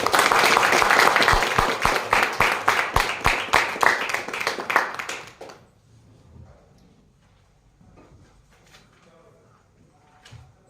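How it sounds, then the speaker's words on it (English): Audience at the SICASA Speakers Forum meeting breaks into a loud round of applause that fades out after about five seconds, followed by quiet room noise with scattered faint sounds. "again a huge round of applause"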